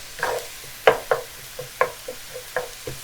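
Beef browning over high heat in a hot pan, with a faint sizzle under a string of irregular utensil clacks and scrapes, eight or so sharp hits spread over a few seconds, close and moderately loud.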